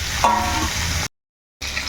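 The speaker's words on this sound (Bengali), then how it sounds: "আর মাছটা কিন্তু আমি সরিষার তেলেই ভাজছি।" Fish frying in mustard oil, a loud close hissing sizzle with a short gap of silence before it resumes; no talking.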